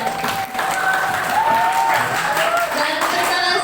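Audience applause for the speaker at a social teaching session in Lampung, a steady wash of clapping with scattered cheers running the full length, with some talk mixed in underneath.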